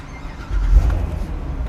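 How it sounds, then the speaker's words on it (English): Engine of a 2015 Corvette Stingray convertible fires up, a deep low rumble that swells abruptly and settles into a steady idle, close by. "The car started."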